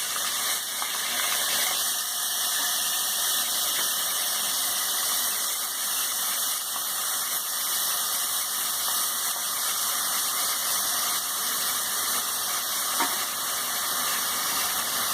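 Onions fry in a pan with a steady, even sizzle that holds at the same level from start to finish, with no voices over it.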